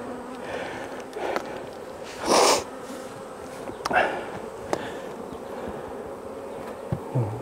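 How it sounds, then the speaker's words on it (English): Honey bees buzz steadily around an open hive during a honey pull from a queenless colony, a dense close hum with individual bees droning loudly past now and then, and no one talking. "Coexisting right there with the bees."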